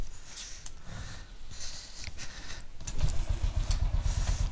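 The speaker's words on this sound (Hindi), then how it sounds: "स्टार्ट करते हैं बाइक थोड़ा।" A Royal Enfield motorcycle kick-starts on the first try and settles into a loud, throbbing idle, its low rapid thumping taking over after a few seconds of kicking and scuffing sounds outdoors.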